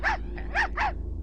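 A purebred Chihuahua yaps in the Blade Runner game: three quick, high, sharp barks with a softer yip between them, close and clear over a low background hum.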